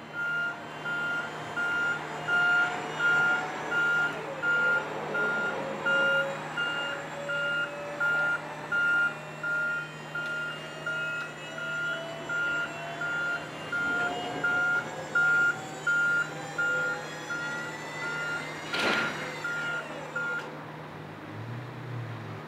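An attenuator truck folds its crash cushion back up while a steady reversing beeper pulses about once per second over hydraulic humming, ending with a brief hiss of released air.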